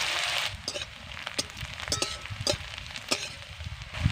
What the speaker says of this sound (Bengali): পেঁয়াজকে আমি ভালো করে ভেজে নেব